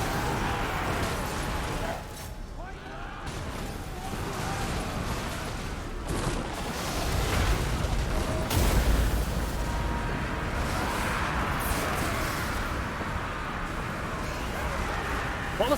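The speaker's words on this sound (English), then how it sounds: "What was that explosion?" Battle explosions in Warhammer 2: Total War, a dense, continuous roar of blasts and rumbling bursts that swells and fades over a steady din of fighting, with no talk.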